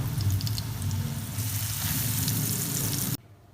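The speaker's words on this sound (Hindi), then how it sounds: "अब हम कटलेट्स डालेंगे और इन्हें शैलो फ्राई करेंगे।" Potato pizza cutlets shallow frying in oil in a pan, a steady close sizzle and crackle running continuously for about three seconds before cutting off abruptly.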